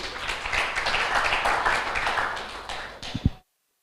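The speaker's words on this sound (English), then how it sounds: "Give applause." Applause from the audience at an international seminar of the Faculty of Agriculture, Udayana University, a dense steady clapping that runs for about three seconds and then stops abruptly, with a couple of louder claps near the end.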